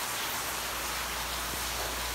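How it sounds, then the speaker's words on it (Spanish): Rain falls steadily in a rural canton, a broad, even hiss of drops that stays constant throughout with no voices. "Bueno, está lloviendo"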